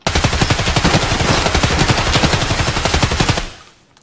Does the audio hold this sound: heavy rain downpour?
no